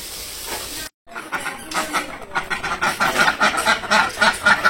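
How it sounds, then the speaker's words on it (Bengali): Village ducks arriving for their evening feed quack in a busy, overlapping chorus close by, building in rhythm and loudness after a brief gap. "এখন আবার যে হাঁসের খাবার, হাঁস এসে পড়ছে।"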